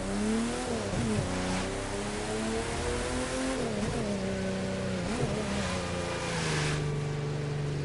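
A heavily modded Porsche with a 3.0 liter V6 in the racing game The Crew 2 revs and shifts. The engine note climbs and drops several times in a loud, continuous drone.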